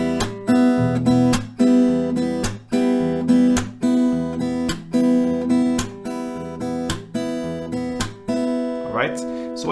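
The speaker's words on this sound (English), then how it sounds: "You can also use the picking here," Acoustic guitar fingerpicking the chords of a song, thumb on the bass with regular plucked accents, close and clear, ending with a brief voice at the close.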